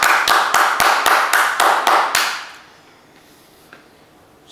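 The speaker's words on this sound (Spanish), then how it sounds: "Un aplauso, por favor." Rhythmic claps from an audience at a charismatic renewal church talk, about eight sharp even beats in quick succession that stop abruptly after two seconds, leaving near silence.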